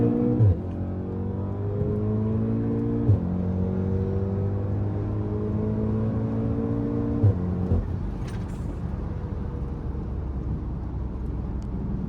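A tuned VW Golf 7 R accelerating through the gears to overtake on a road trip. The engine drone climbs steadily in pitch, drops back at two gear changes, then rises again. It is heard from inside the car, with no speech.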